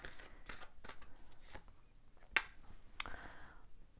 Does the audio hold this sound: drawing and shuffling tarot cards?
yes